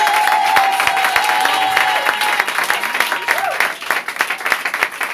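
Church congregation applauding in sustained, dense clapping with some cheering, loud and close, as a voice calls out over the crowd.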